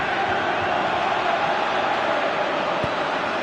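A stadium crowd in a PS4 football video game gives off a steady, dense roar of cheering and murmur that holds level throughout.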